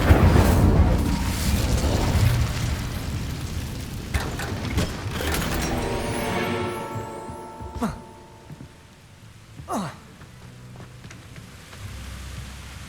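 An Incendio fire spell cast in the Hogwarts Legacy video game, a loud roaring whoosh of flame with crackling bursts that fades into a couple of sharp isolated thumps.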